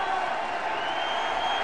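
Stadium crowd at a Northwestern Wildcats versus Nevada Wolf Pack college football game, a steady, dense roar of cheering and noise filling the air continuously, loud and broad with no breaks.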